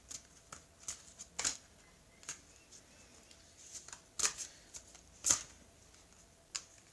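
Toltec oracle cards shuffled and drawn, soft close riffling and crisp flicks with a few sharper snaps of cards, quiet and intermittent, no talk.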